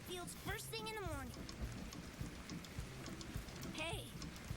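Steady cartoon rain hisses throughout, close and even, under light chatter and a couple of short whistly character sounds.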